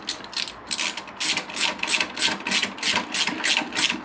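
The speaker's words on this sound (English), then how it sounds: "So I've got my ratchet." A hand ratchet tightens the handlebar clip-on bolts on a 1998 Kawasaki ZX9R C1 motorcycle, giving a steady run of close, crisp clicking bursts in a regular back-and-forth rhythm for several seconds.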